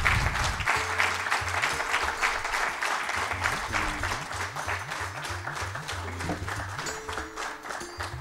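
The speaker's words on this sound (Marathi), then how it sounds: "आणखी थोड्या टाळ्या वाजत राहायला हरकत नाही" Applause from the audience at an award ceremony goes on throughout, a dense, steady clapping from a hall crowd with a faint voice now and then underneath.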